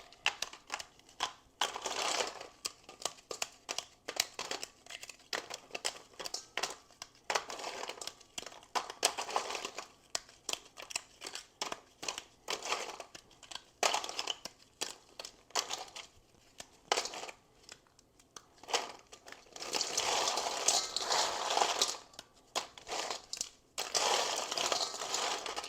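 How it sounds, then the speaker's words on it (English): Batches of peanut brittle snapped and broken up by hand: dense bursts of crisp cracking and crinkling, close and fairly loud, coming in irregular waves with short pauses between, and no talking. "we're going to go ahead and pull out our batches, and we're going to break them up"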